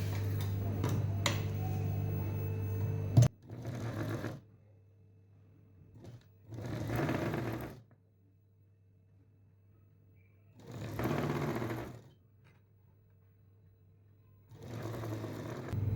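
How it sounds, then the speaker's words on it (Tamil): A sewing machine stitches the folded half-inch hem of a blouse in several bursts of fast rhythmic whirring, each a few seconds long and separated by quiet pauses, close and clear with no talking. "உள்ளே ஒரு அரை இன்ச்சு மடித்து இந்த ஓரத்துலேயே தச்சிடலாம்"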